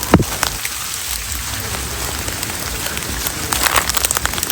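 Heavy rain pours steadily onto a surface in a broad, constant hiss, with a few sharper spattering hits near the start and toward the end, while faint voices murmur underneath.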